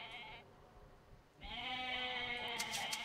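Goats bleat in the Age of Mythology video game, a short bleat followed after a pause by a longer, louder one, set against quiet game ambience.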